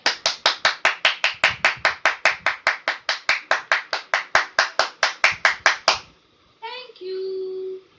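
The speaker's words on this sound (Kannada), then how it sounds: "ಈಗ ನಾವು ನಮ್ಮ ಕೈಗಳೆಲ್ಲ ಜೋರಾಗಿ ಎಷ್ಟು ಸಾಧ್ಯವೋ ಅಷ್ಟು ಚಪ್ಪಾಳೆ ಹೊಡೆಯೋಣ" Children clap their hands loudly together in a steady, rapid run of about twenty-five crisp claps that stops abruptly, followed by a short burst of voices.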